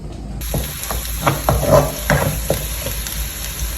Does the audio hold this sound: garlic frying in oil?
yes